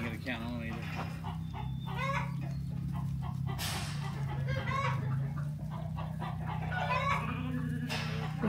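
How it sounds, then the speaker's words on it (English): A flock of sheep herded back to pasture on a ranch, with continuous overlapping bleats close and farther off, a low rumble beneath and people talking throughout. "Kids are out there taking all the sheep back to the pasture they need to be in."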